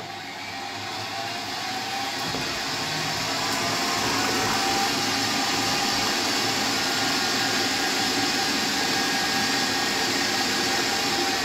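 An electric mixer beats an egg into butter, sugar and vanilla for a Christmas cake. Its steady, loud whirring motor rises slightly in speed early on, then holds a constant drone with no talking.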